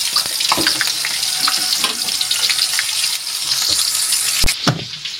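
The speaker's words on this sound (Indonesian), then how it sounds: "Ini bawang merah kita goreng terlebih dahulu" Shallots frying in oil give a bright, crackling sizzle, close and fairly loud, with small pops and a clatter near the end; no talk.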